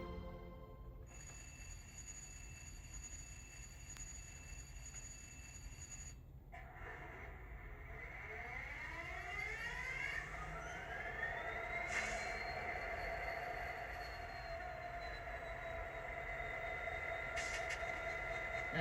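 A Walthers Mainline model locomotive fitted with a Tsunami 2 DCC sound system drones through a scale speaker, its diesel tone rising and shifting in pitch over a long steady stretch.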